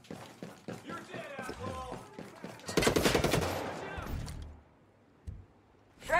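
Rapid gunfire bursts in the video game Ghost Recon Breakpoint crackle through a firefight, loud and dense, then trail off, while voices shout over the shots.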